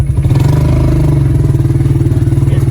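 A farm tractor jolts across rough, bumpy pasture near grazing calves, its engine chugging loudly and steadily up close with rhythmic clattering and rattling from the bouncing machine throughout.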